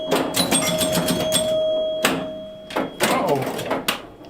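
Chimes ring out in quick bursts alongside the clatter of score reels on a Fire Queen electromechanical pinball machine, with mechanical thunks between, and a person talking over parts of the play.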